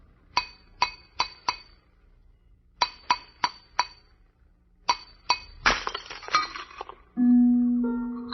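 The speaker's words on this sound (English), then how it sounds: "The glass you just heard broken was not ordinary glass." A closed glass vessel shaped to the exact contour of a man's head is struck in three bursts of sharp clinking taps, then bursts and shatters into scattered fragments, followed by a low steady hum; an old-time radio crime drama sound effect.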